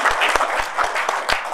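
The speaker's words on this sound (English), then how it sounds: "Can we have a round of applause for Rafi Labbeg," Audience at a networking keynote event applauds in a steady, full burst of clapping, with a few dull thumps punctuating the dense crackle.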